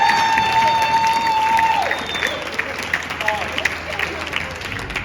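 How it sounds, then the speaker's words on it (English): Wedding guests applaud together in a steady wash of clapping, with a brief tone at the start and some voices mixed into the crowd noise. "So can we give one more round of applause just for this?"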